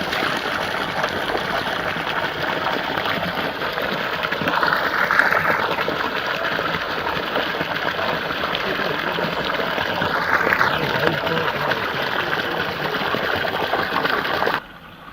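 Continuous gushing of water pouring out steadily from the pipe of a 3 HP solar-powered submersible pump, a broad hissing rush that stays loud throughout before cutting off at the end.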